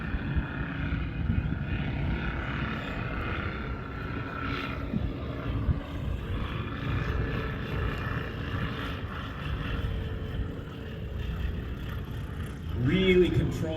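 An airplane engine drones steadily with a broad, rumbling, slightly pulsing tone at a moderate distance, and people talk over it the whole time.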